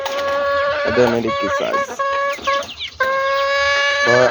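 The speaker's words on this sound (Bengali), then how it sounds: "আর এখানে আমার প্রত্যেকটা পাহাড়ি দেশি মুরগি" Native hill chickens cluck and cackle loudly and close by in a continuous, overlapping chorus of repeated calls, with brief pauses between bursts.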